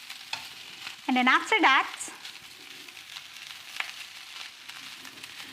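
Homestyle fried rice with dark soy sauce being stir-fried in a pan, a soft scraping and faint sizzle running steadily underneath while a voice talks over it.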